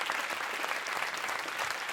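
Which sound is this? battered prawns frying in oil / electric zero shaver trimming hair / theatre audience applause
theatre audience applause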